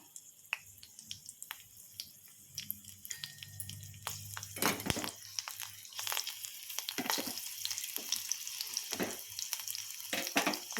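Peeled garlic cloves sizzle in hot oil with asafoetida, fenugreek, mustard seeds, dried red chilies and curry leaves, tempering for a cucumber dal. The loud, steady frying swells partway through, with sharp crackles and pops scattered throughout.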